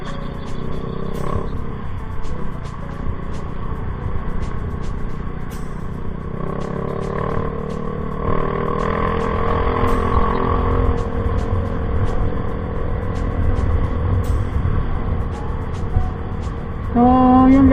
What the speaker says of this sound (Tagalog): naririnig nyo ba yung tambutso na ganda ng tunog?